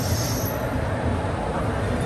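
Train at a busy railway station at Manamadurai in Tamil Nadu, a steady loud rumble of rolling wheels and carriage noise filling the whole moment without breaks.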